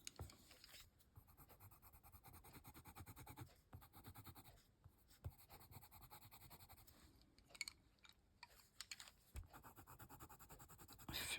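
Coloured pencil shading on paper, close up: a continuous soft scratchy rubbing in quick back-and-forth strokes with brief pauses, no speech.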